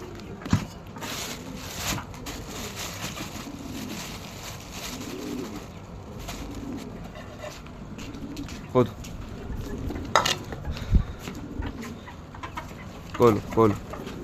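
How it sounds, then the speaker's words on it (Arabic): Pigeons in a rooftop loft coo softly and repeatedly while feeding, with occasional sharper clucks and clicks rising above a low, steady background. "نبص على الحمام بتاعنا"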